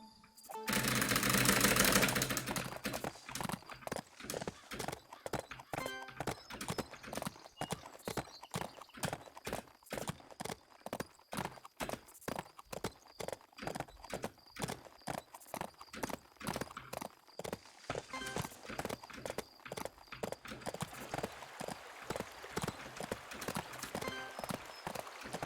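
Horse hooves clip-clop steadily in the Bibi & Tina riding game, a fast even run of crisp repeated hoofbeats that carries on throughout after a brief loud burst at the start.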